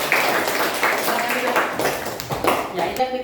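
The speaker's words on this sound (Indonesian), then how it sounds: "Kasih tepuk tangan." Applause in a classroom after tasting freshly made sweet tea, a loose round of hand claps with people talking over it, fairly close and steady.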